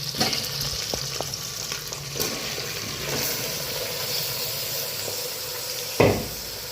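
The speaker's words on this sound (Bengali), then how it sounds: "ভাজা হয়ে গিয়েছে মশলাগুলো, এবারে ম্যারিনেট করা মাংসগুলো এর মধ্যে দিয়ে দেবো।" Marinated meat goes into a pan of fried spices and sizzles and spatters steadily, with occasional scraping stirs and a louder burst near the end.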